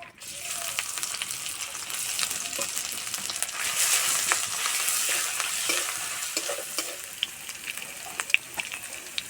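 Whole spices, dried red chillies, bay leaf, cardamom, cloves and grated ginger sizzle in hot oil for vegetable dal, a steady crackling hiss with small pops and stirring scrapes throughout, no voices.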